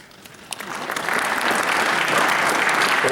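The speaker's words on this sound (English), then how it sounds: "Supposed to hold the applause." A crowd at a high school football senior night breaks into applause, building from a few early claps into full, loud, sustained clapping that holds to the end.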